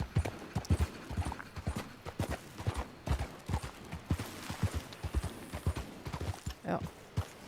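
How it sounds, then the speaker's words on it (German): Hooves of a horse clip-clop steadily in Red Dead Redemption 2, a brisk rhythmic string of close, distinct hoofbeats, with a brief whinny-like sound near the end. "Du tolles Pferdli."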